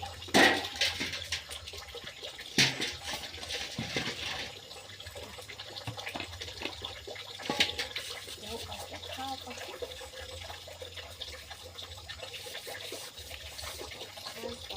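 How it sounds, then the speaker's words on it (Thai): A kitchen tap runs steadily while dishes are washed up, with the water's rush broken by occasional clatters of utensils and faint voices in the background. "ล้างน้ำเปิดน้ำได้ตลอด"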